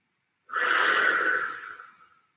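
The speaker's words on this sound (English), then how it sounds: "Take some great cleansing inhales" One deep, close breath rises suddenly after a short silence, holds as a breathy rush for about a second, then fades away slowly, with no talking.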